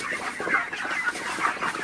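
A flock of broiler chickens in a farm shed on a hot day clucks continuously, a busy chorus of overlapping, close clucks and chirps at moderate volume with no talk.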